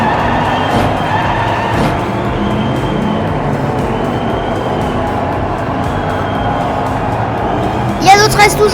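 Diecast toy race cars, a Ford, Porsche, Renault and Corvette, roll down a track in a continuous close rumbling clatter, ending with a brief burst of sharper rattles.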